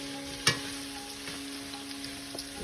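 Garlic, onions and spring onions frying in a pot, a soft steady sizzle with a sharp clack near the start and a few faint utensil taps over a low hum.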